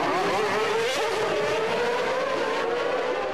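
Formula 1 cars racing at Monaco, with a McLaren chased closely by a rival, roar continuously at full throttle, a loud, steady high-pitched engine wail with slight pitch shifts as they pass.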